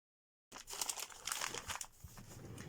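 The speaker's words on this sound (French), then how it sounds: "Il faut que je découpe une forme ronde le mieux possible." Paper being cut into a round shape for a craft project: close, steady crinkling and snipping rustle running throughout, fairly quiet, with no talk.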